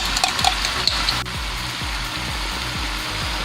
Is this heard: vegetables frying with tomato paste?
yes